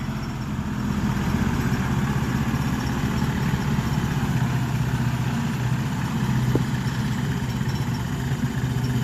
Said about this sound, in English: with the handy dandy tractor